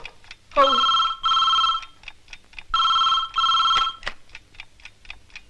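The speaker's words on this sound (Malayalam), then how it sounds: "ഇതേതാ ഇപ്പൊ ഒരു ഫോൺ?" An old-style telephone in a Mohanlal movie scene rings with two loud electric double trills, each ring a shrill metallic burst, separated by short pauses and followed by faint ticking.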